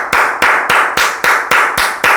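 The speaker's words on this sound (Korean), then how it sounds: "선생님 박수 소리 크지 않아?" A teacher's hand claps ring out in a classroom, about eight sharp, loud, close claps in a steady, evenly spaced rhythm with nothing else heard.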